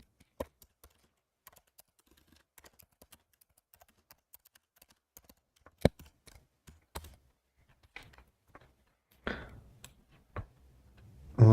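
Keys clatter on a computer keyboard in a quiet room, with irregular bursts of close, crisp clicks and taps, some louder keystrokes, and brief soft rustles near the end.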